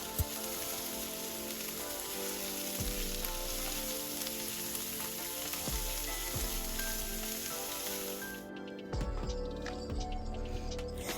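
Seasonings sautéing in a hot pan with parsley added toward the end, a loud continuous close sizzle with occasional stirring scrapes, the frying briefly shifting as more goes in, with no talk.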